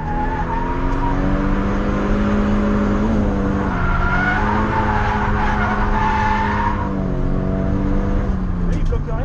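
A Nissan S15 drifting under handbrake, its engine roaring loud and steady with shifting revs while the tires skid and squeal throughout; voices talk faintly in the background.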